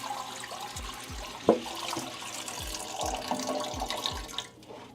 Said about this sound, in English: We're just gonna start adding in the water, one jug at a time.